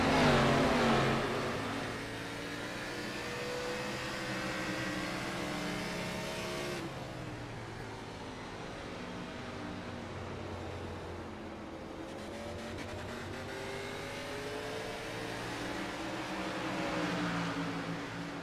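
A race car engine in the iRacing video game at Richmond, revving and droning continuously with shifting pitch, including a brief throttle blip around turn 2, heard up close throughout.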